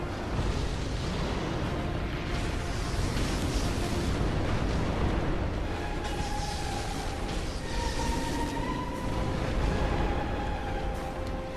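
A Bloodborne enemy blows up in a sustained, loud rumbling burst mixed with dense game noise and ringing tones, the blast filling the whole stretch.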